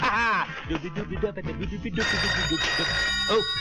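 A telephone rings with a bright, repeating electronic tone, while people talk around it.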